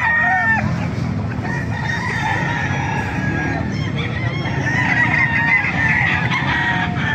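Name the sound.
chickens and roosters crowing at a poultry market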